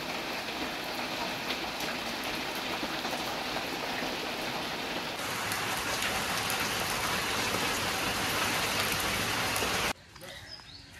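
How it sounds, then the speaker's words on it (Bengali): Heavy unseasonal rain falling at night, a dense steady hiss of drops on surfaces, loud and continuous, ending abruptly near the close. "কালকে রাত্রে হঠাৎ এত বৃষ্টি, ধারণা করা যাবে না।"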